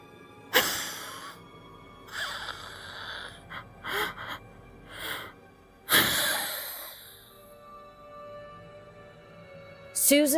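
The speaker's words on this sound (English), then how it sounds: "Susan's muffled pleas turned into wheezing and then into shallow panting." A performed wheezing and shallow panting breath, voiced by a narrator in a horror story, coming in several separate gasping bursts with quiet pauses between them.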